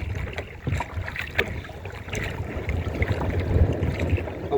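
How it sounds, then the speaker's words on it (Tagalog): Gusty wind buffets a small outrigger boat near a coconut grove shore, a rough low rumble of wind noise with irregular swells and faint splashes, no voices. "Bugso-bugso yung hangin."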